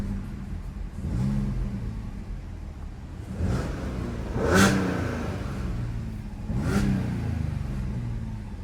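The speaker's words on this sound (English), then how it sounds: "give you guys some revs so you can hear that supercharger" A 2015 Audi A6 with a supercharged 3.0T engine revs in several steady bursts, each rising and falling over a constant idle hum, heard up close and alone.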